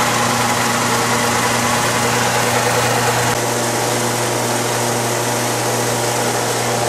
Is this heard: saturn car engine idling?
yes